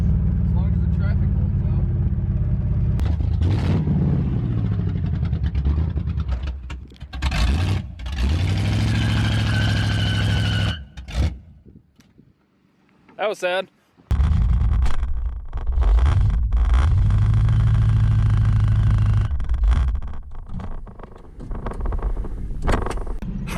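A hot rod engine, its front brakes hanging up, revs loudly and unevenly through a burnout attempt, cuts out briefly, backfires with sharp pops, then sputters and dies, with people talking over it throughout.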